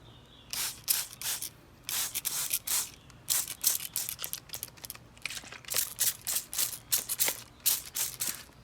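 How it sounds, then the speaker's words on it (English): A spray bottle of baking soda solution mists tomato leaves in quick bursts, many short misting pumps in an irregular rhythm, close and crisp against a quiet background. "I'm gonna spray the leaves of the tomato."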